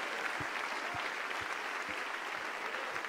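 Sustained applause from a congregation during a church service, many hands clapping together at an even level, with a few soft low thumps recurring underneath at a fairly regular pace.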